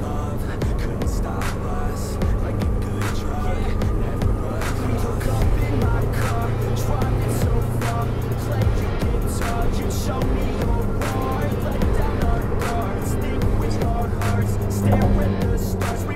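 Steady engine hum and road roar from inside a car moving at 100 km/h, continuous and fairly loud throughout.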